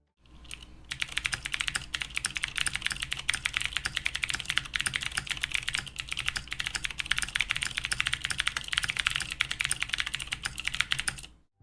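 Rapid, steady typing on a plateless mechanical keyboard, a dense stream of crisp, close key clacks running for about ten seconds with no voices over it.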